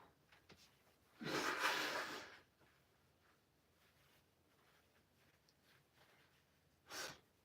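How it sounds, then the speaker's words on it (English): A faint, close sniff draws in for about a second, followed by quiet breathing and a second, shorter sniff near the end. "I am sorry, I am sniffling so much."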